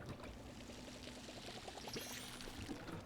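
Short burst of water being poured onto trees in a video game homestead, a steady gurgling splash with bubbly pulses, soft and uninterrupted by talk.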